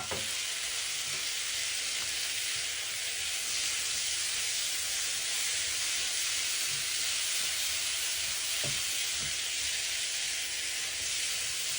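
Leeks sizzle in a hot pan while chicken fried rice is stir-fried, making a steady, close, hissing fry with a few clanks of stirring and no talking.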